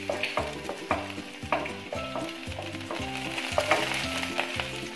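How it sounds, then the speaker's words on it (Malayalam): Two cloves of finely chopped garlic frying in hot oil, with a bright steady sizzle and crackle punctuated by regular knocks and scrapes of a spoon stirring the pan close by. "ഓയിൽ നന്നായിട്ട് ചൂടാകുമ്പോൾ ഒരു രണ്ട് അല്ലി വെളുത്തുള്ളി ചെറുതായിട്ട് കട്ട് ചെയ്തതാണ്, അത് ഇട്ട് കൊടുക്കാം."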